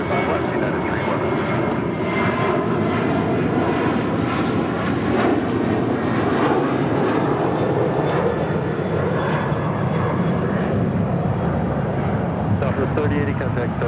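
A United airliner roars in to land on runway 25 left at LAX, a loud sustained jet engine rumble throughout, heard close with a tower radio voice intermittently over it.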